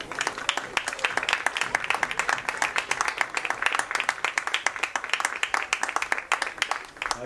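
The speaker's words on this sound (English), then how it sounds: "A round of applause for the seniors from Gorham High School." Applause for the senior players at a high school boys' varsity soccer game, a crowd clapping rapidly and continuously, with sharp individual claps close by, for several seconds.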